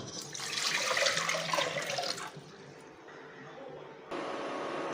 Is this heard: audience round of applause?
no